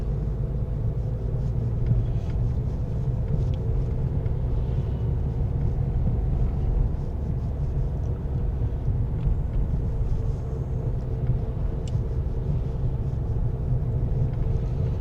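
Steady low rumble of road traffic, with vehicles droning continuously at a moderate level and no clear individual passes.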